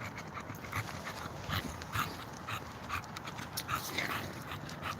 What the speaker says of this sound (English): The dogs are so cute.